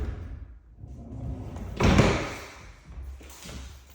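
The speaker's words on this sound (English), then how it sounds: "You have the barn door that goes into the master suite." A sliding barn door leading into a master suite rolls and thuds shut with one loud central bump, followed by softer rattles, indoors and close.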